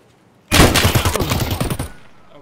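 A rapid burst of gunfire from the shooter game Escape from Tarkov rattles out loud and close, a fast rhythmic string of shots lasting under two seconds before cutting off, with no talking.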